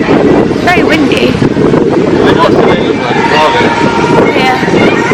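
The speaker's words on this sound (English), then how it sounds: "It's very windy." Strong wind buffets the microphone at an outdoor water park, a loud continuous rumbling roar with gusty surges, while people talk under it.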